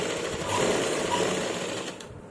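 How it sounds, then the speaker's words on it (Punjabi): Sewing machine stitching lace onto a dupatta, a rapid steady mechanical whir running close and loud for a couple of seconds before easing off, with no talk over it. "ਇਧਰ ਸਲਾਈ ਲਾਉਣੀ ਹੈ ਜੀ ਹੁਣ ਲਾ ਕੇ ਦਿਖਾਉਣੀ ਹੈ ਜੀ ਮੈਂ ਆਪਾਂ ਇਹ ਲੈਸ ਲਾਉਣ ਲੱਗੇ ਆ"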